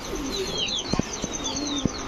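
Red Spangle German Shield pigeons coo softly and repeatedly close by, with a few sharp taps and faint chirps mixed in and no talking.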